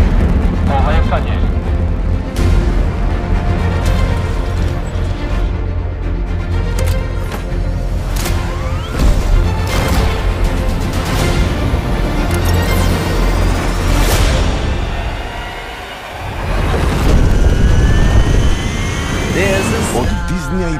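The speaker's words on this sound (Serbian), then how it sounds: "Poletanje." A rocket liftoff plays as a loud, sustained roar with rumbling low end. It is layered under music and dramatic effects, briefly dips near the middle, then surges back.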